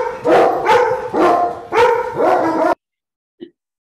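Dogs bark loudly and nearby, four or five barks in a steady run, followed by silence and one faint short yelp.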